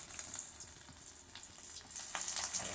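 Fried egg, Shanghai and espada fish frying in a pan for a home breakfast, a soft continuous sizzle and crackle with faint watery spits, steady and close throughout.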